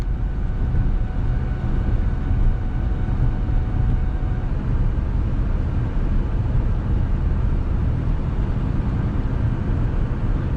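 A 2006 Lincoln Zephyr (MKZ) accelerates on the road, its engine a steady low drone blended with road and cabin noise at constant loudness, with no talking.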